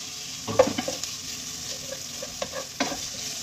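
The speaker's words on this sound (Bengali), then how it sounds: "আদা রসুনটা ভালোভাবে এবার ভেজে নেব পেঁয়াজের সঙ্গে।" Ginger and garlic fry with onions in a pan for prawn pulao, a soft steady sizzle punctuated by several quick clinking scrapes of a spatula, close and quiet, no speech.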